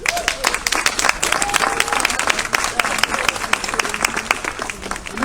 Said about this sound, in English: Huge round of applause for Gail.